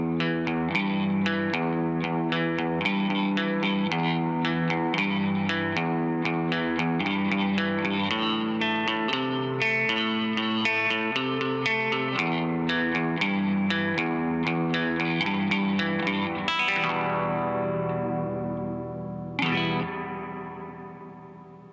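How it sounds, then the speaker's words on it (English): An electric guitar plays a driving, twangy surf-style garage riff drenched in splashy reverb from a Soldano Astroverb amp, with ringing chords that decay into a wash at the end. "play a surfy little garage riff to show off the Astroverb's amazing reverb"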